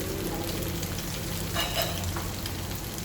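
Vegetables stir-fried in a pan give a steady, close sizzle, with scraping and stirring sounds layered over the frying throughout.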